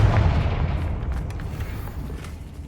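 A Confringo blasting spell goes off in Hogwarts Legacy: one deep, loud boom that rolls into a rumbling tail, slowly fading over a few seconds with no voices.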